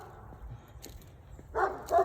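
A dog gives a couple of short barks near the end, moderately close, after a stretch of quiet room noise.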